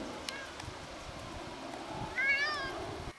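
A pet cat gives one short, fairly faint meow near the end, close by, against quiet outdoor background noise.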